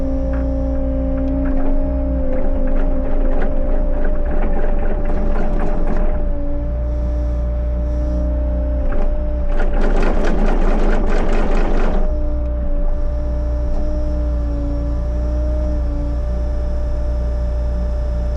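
A Bobcat 30C auger attachment on a compact machine drills holes into rocky ground, a loud steady hydraulic engine drone with bursts of grinding and rattling as the bit bites in, then the drone continues alone.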